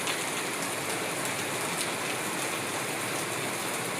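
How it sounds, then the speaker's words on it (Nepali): Heavy rain pours over a village in a steady, dense hiss that holds at the same loud level throughout, with no voices. "धेरै ठुलो पानी आयो"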